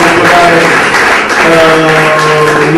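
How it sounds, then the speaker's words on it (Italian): Audience applause at an Italian cultural association event in Florence showcasing Basilicata food, steady broadband clapping filling the whole stretch at close range, with faint speech or tones running beneath. "Dato un applauso al vicepresidente Mastro Lorenzo"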